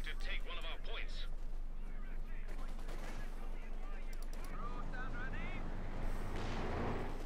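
Machine gun and artillery fire rattle on and on in a Company of Heroes 2 match, OKW against UKF. Steady bursts and booms fill the mix while a commentator's voice runs underneath.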